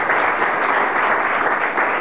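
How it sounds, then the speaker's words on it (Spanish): An audience applauds at a talk on deepfakes and hybrid threats, a dense steady wash of clapping held at even loudness from start to finish with no voices over it. "Les vamos a dar un aplauso"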